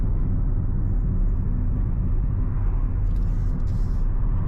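Car slowing down as it approaches a roundabout, a steady low engine and road rumble heard from inside the vehicle, constant and unbroken with no voices.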